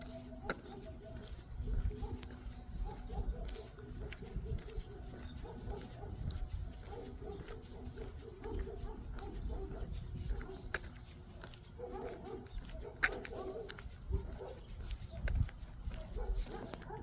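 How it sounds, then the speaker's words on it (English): Distant dogs bark intermittently outdoors over a low, continuous background rumble, with a few faint bird chirps. "right now there are dogs barking"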